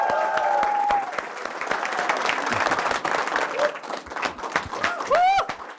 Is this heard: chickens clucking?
no